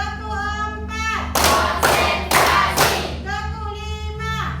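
A classroom of students claps a short rhythm together as part of an ice-breaking clap game, four sharp group claps sounding close and loud between stretches of a teacher's spoken instructions.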